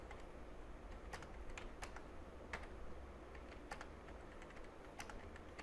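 Keys clack on a computer keyboard during Hindi typing practice, soft and irregular single keystrokes spaced out over a quiet, hissy room, with no talking.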